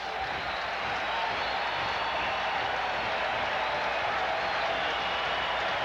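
A large crowd of over 23,000 at a 1986 Mets-Reds baseball game stands and cheers, a steady, dense roar of applause and voices rising slightly and holding loud throughout.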